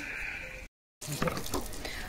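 Water gushes and splashes close by as a vehicle is washed, broken by a brief silent gap before the spraying resumes.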